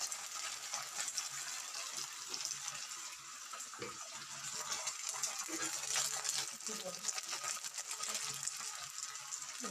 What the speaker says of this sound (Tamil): கருவேப்பிலை தாளிச்சுக்கிட்டு